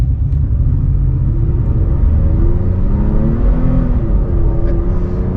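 Deep engine rumble of a new Toyota Tacoma pickup truck pulling away, pitch rising gradually as it accelerates, heard from inside the cab, steady and loud.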